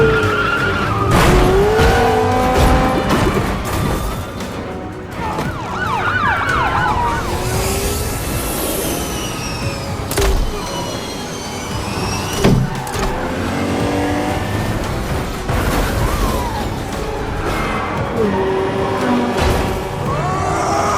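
A police car and a police-assisted sport motorbike chase a fleeing car in an action film, with wailing sirens, screeching tires, roaring engines and crashing impacts blending into a loud, frantic pursuit.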